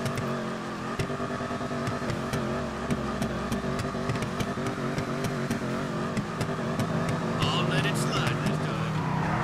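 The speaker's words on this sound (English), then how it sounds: "the sound that the engine makes when you're revving it up is just insane" A Hotknife hot rod engine in GTA V revs repeatedly, rising and falling in loud bursts that stay up close, with game music and a voice talking over it.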